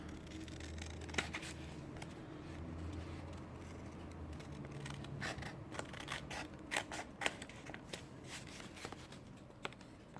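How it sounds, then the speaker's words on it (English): Scissors trim excess paper off handmade pop-up journal cards. Quiet, close snips and crisp paper rustles come in an uneven sequence, with a few sharper cuts, and no one talks. "Let's just trim this little excess off."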